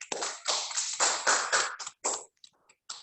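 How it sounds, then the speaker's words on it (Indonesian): An audience at a school quiz competition claps for SMPN 3 Lubuk Basung in a short burst of nearby applause that thins into a few scattered claps. "Kita beri tepuk tangan dulu."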